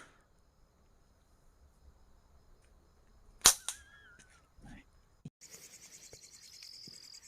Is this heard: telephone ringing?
no